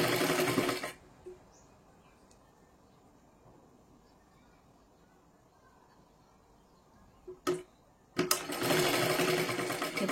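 A sewing machine runs in two close, steady bursts, one at the start and one at the end with a quiet pause between, stitching small folded triangles of saree blouse fabric for a kathpadar design.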